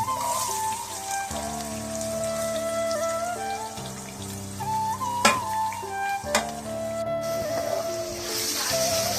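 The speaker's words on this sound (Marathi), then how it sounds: "त्याला व्यवस्थित ब्राऊन कलर कलर येईपर्यंत अगदी परतून घ्यायचा" Garlic and onion sauté in a pan until browning, giving a steady close crackling sizzle with occasional stirring scrapes, partly under loud background music.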